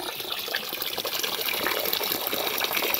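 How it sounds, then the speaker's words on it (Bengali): Water pours steadily from a tap while village-style chicken curry is being cooked, a continuous broadband gush lasting throughout at a fairly even level, close by, with no talking. "জলটা পড়তে দে"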